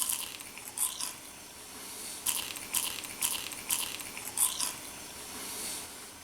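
Bites into crispy, dry oven-baked provolone cheese (provoleta): several sharp crunching bites spaced irregularly, each followed by close crackly chewing, no talking.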